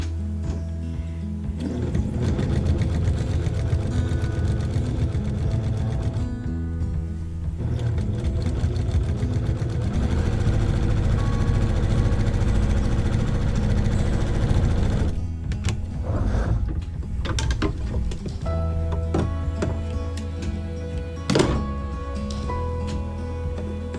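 A sewing machine stitches a quarter-inch quilt seam, a steady close mechanical whirr in runs with short pauses between them.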